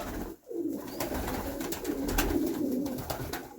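Soft, repeated cooing of pigeons close by at a feeder in freezing weather, a low throaty murmur running steadily over faint outdoor background noise.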